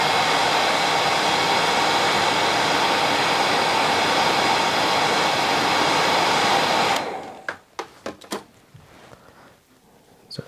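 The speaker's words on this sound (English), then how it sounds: "Now you can tighten the hair up a wee bit just with the hairdryer" A hair dryer blows steady, loud broadband air over fly-tying hair on a small olive quilled muddler for about seven seconds, then cuts off, leaving faint clicks and handling noises.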